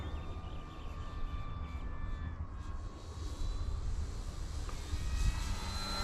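An FMS 1700mm PA-18 Super Cub RC plane in flight, its electric motor droning and whining at a distance with rising and falling pitch as it climbs and rolls.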